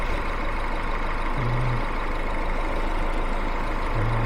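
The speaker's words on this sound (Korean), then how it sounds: "엔진 소리 좋아요." A steady, low engine idle from a Chevrolet Malibu 2.0 GDI turbo converted to LPG hums continuously at close range, with no voices.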